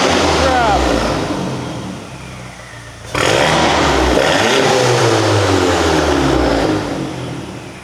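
A Volkswagen GTI fitted with a CTS catless downpipe revs in short throttle blips, loud and close, with rising and falling engine tones, a brief dip, then another sustained rev.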